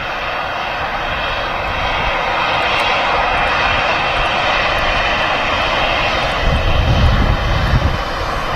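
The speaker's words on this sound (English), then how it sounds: "This Aer Lingus A320 is in from Dublin" An Aer Lingus Airbus A320 airliner arriving from Dublin at Manchester Airport, a steady loud jet engine roar that holds throughout and swells slightly near the end, with no talk.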